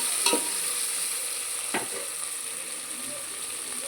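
Tomatoes frying in a pan being stirred, a continuous close sizzle with a couple of sharp spoon scrapes against the pan early on.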